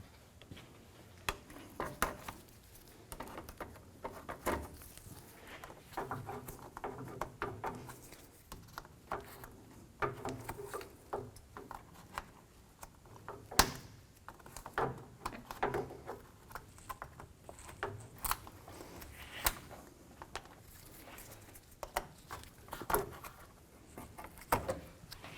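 Plastic inserts pried off the top of a 2007-2017 Jeep Wrangler grille with a trim removal tool, giving scattered close clicks, pops and light knocks at an irregular pace.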